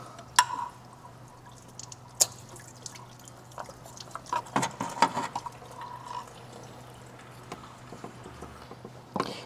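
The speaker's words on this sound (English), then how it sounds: "I'm expecting a bit of coolant to come out when we do this." Coolant dripping out as the water pump comes off a Chevrolet Cruze 1.8L engine, faint irregular drips and small splashes with occasional tool knocks in a quiet workspace.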